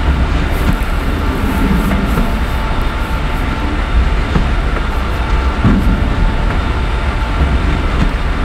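Train running on track in a train simulator game, an Indian Railways express at full speed near a junction: steady loud rumble and rolling rail noise throughout, with faint periodic clicks of wheels over joints.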